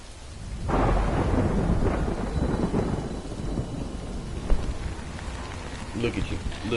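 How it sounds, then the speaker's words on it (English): Heavy rain and rumbling thunder in the video game Death Stranding, a loud thunder roll building and fading over a steady downpour with scattered droplet hits. "The rain's coming."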